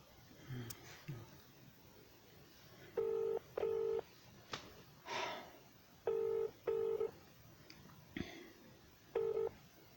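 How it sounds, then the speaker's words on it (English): Phone keypad tones sound during a call to a police phone menu, short beeps in pairs and singles spread across a quiet line, with faint breathy noise between them. "If you wish to report a crime or incident, press 1."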